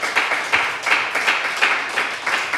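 A church congregation claps together in a steady, fairly fast rhythm, the sound filling the room at moderate loudness for a couple of seconds with no talking.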